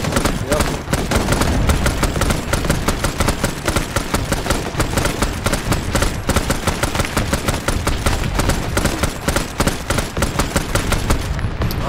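Dense, continuous machine gun fire in a military shooter game set in Vietnam, rapid bursts layered with other gunfire and occasional heavier blasts, loud and unbroken throughout.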